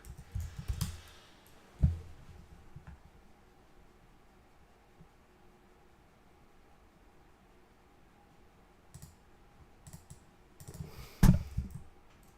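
Someone types a password on a computer keyboard in short bursts of clicking, with sharp thumps and keystroke clusters near the start and end and quiet stretches between.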